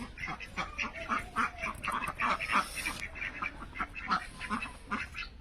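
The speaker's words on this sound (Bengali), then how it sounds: "এই ঠান্ডার মধ্যে আমার হাঁসগুলা পুকুর থেকে উড়ে আসলো।" Domestic ducks that have flown in from a village pond on a cold, foggy morning quack in a lively, repeated chorus of nasal calls, several birds overlapping at moderate distance, with no talk over them.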